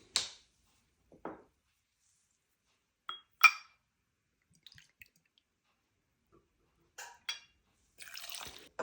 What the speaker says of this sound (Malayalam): 60 ml വോഡ്ക ഒഴിക്കാം.